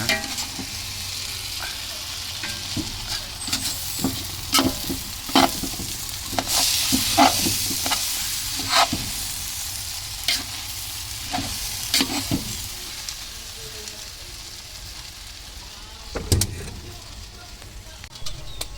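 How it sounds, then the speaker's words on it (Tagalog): Glutinous rice mixed with rice sautés in a pan, giving a continuous frying sizzle broken by repeated scraping and clattering stirs of a utensil against the pan, fairly close and busy throughout. "Dapat igisa-gisa mo na."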